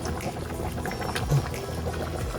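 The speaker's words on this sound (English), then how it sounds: "and then I turn it to high once it started boiling" A pot of tomato-chicken stew bubbling on the stove, a steady low simmering rumble with soft gurgles and small pops throughout, close by and moderately quiet.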